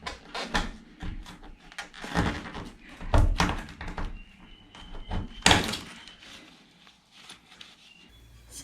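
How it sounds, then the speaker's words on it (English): A small screwdriver pries rusty window clips off a Toyota Coaster bus, producing close knocks, scrapes and clicking pops in an irregular series, moderately loud, with no talking. "I'm just using a little screwdriver to just gently pry these clips up"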